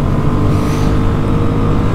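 A 2019 KTM Duke 125 motorcycle engine drones steadily while riding, a loud, continuous low hum with rushing wind, no voices over it.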